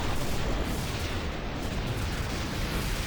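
Relentless, dense explosions and heavy blasts from a battle in Final Fantasy X-2 HD roar continuously and loudly throughout, a thick wall of booming game combat noise with no gaps.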